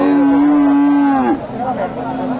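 A single loud, drawn-out moo from a Friesian heifer close by at a cattle market, ending abruptly, followed by faint crowd murmur in the background.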